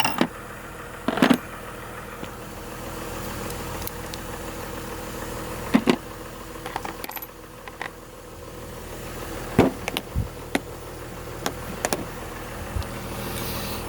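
Buick Rainier engine idling steadily after a misfire repair, a low continuous hum with a few brief clicks and knocks from nearby handling, no voices.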